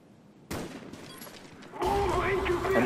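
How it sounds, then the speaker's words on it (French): A sniper rifle shot in a first-person shooter match on the Nuketown map: a sharp gunshot bursts out, followed later by louder layered game noise with whining tones. "et là on va entendre un tir de sniper"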